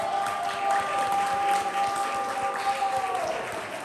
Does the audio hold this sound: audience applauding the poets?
yes